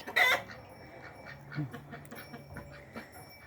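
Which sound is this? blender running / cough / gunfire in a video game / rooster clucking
rooster clucking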